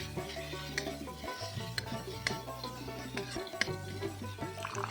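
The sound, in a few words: stirring and frying spice masala for Bengali fish curry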